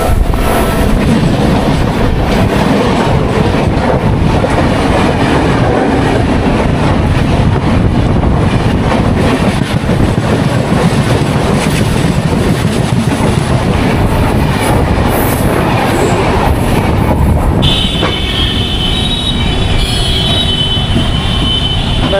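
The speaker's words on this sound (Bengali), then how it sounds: "আমাদের ট্রেন প্রবেশ করছে বেনারস জংশন স্টেশনে।" The 12353 Lalkuan Express rolls into Benares Junction station with a loud, continuous rumble of wheels and carriages, rhythmic clatter over rail joints and a high wheel squeal near the end.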